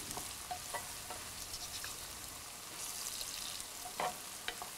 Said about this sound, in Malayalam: വെളുത്തുള്ളി, കറിവേപ്പില എന്നിവയിട്ട് വഴറ്റുക.